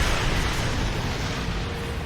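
Continuous roaring rumble of missile fire and explosions in a Star Trek space combat game, loud and dense throughout with no clear separate blasts.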